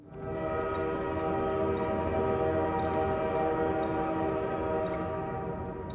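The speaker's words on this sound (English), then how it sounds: "The sound of a train resounded through the tunnel" A train rumbles steadily through an underground tunnel in the horror game Lost in Vivo, with a loud, sustained drone and faint metallic ticks that never quite arrive.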